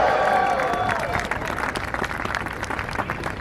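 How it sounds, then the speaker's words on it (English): Audience at an Andrew Yang campaign rally in Boston breaks into applause just after a tonal musical sound fades, clapping continuing steadily with light crowd noise. "That's an applause line."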